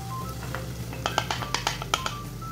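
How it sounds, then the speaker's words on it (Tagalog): Utensil scraping and tapping against a pan while stirring macaroni sauce, a quick run of light clinks and scrapes over a soft steady sizzle, close and fairly quiet with no talking. "Mix na natin siya guys."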